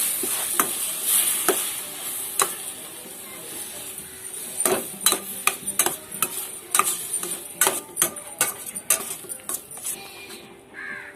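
A spatula scrapes and knocks against a pan in quick, irregular strokes over a soft sizzle of ground soya beans frying, close and fairly loud.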